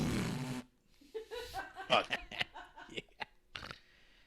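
A short, raspy fart sound effect opens the clip, then people laugh and chuckle in bursts.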